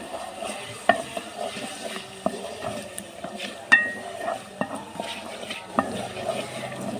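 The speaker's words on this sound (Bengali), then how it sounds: "এটা আমি কাঠির সাহায্যে একটু লাড়াছাড়া করে দিচ্ছি" Chopped tomatoes stirred with a wooden stick in a frying pan, a quiet steady sizzle under soft scraping and occasional light knocks against the pan, no voices.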